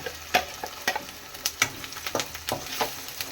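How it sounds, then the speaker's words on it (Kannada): Ground masala for hotel-style vegetable kurma fries in oil in a pan, a soft steady sizzle broken by several distinct spatula scrapes and clinks against the vessel, close up with no voices. "ನೋಡಿ ಇದು ಕೂಡ ಎಣ್ಣೆಲಿ ಫ್ರೈ ಆಗಬೇಕು ಸ್ವಲ್ಪ ಹೊತ್ತು"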